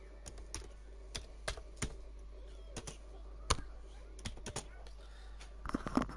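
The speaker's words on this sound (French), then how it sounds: "Donc nous allons taper la commande suivante." A computer keyboard is used to enter a terminal command, heard as sparse, separate keystrokes with short pauses between them. The taps are quiet and close over a faint background hum, ending in a small cluster of keypresses.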